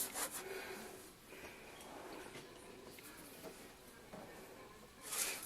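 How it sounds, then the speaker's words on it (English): An embossing buddy is rubbed over a card in soft, scratchy strokes, quiet and close, with a steady back-and-forth rasp. "You're going to want to use an embossing buddy of some sort. I'm going to go ahead and put it everywhere."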